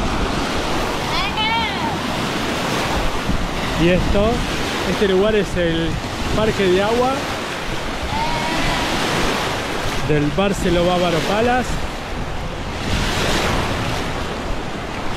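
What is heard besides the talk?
artificial waves in a wave pool at a water park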